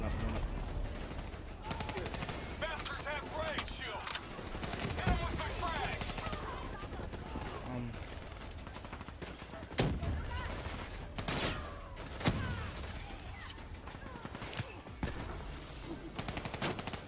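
Steady gunfire from a Call of Duty Black Ops 3 match, with rapid automatic bursts, sharp single shots and mechanical clicks and clatter running for the whole stretch, while a player talks over it.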